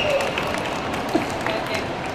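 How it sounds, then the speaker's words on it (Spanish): Steady applause from a convention audience at a talk during an anime and Japanese culture event in Madrid, a continuous wash of clapping with crowd noise mixed in. "aplaudid más fuerte"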